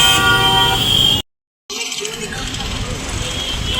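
Car horns honk in stalled Delhi morning traffic, a busy roadway din with toots and traffic noise, broken by a brief silent gap before the honking and engine rumble resume.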